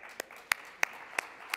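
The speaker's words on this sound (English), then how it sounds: "Let's welcome Mr. Bendersky with a big round of applause first." A few sharp, separate hand claps ring out from a small conference audience welcoming a panel guest, five spaced claps at a slow, sparse rhythm, faint against a quiet room.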